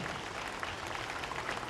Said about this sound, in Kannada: ಜೋರಾಗಿರುವಂತಹ ಕೈ ಚಪ್ಪಾಳೆ ಬರಲಿ